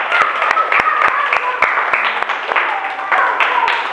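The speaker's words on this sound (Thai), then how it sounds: "ปรบมือให้ตัวเองดังๆหน่อย" Primary school children clapping for themselves in a classroom, a loud run of sharp, separate claps with a voice talking and excited kids chattering underneath the whole time.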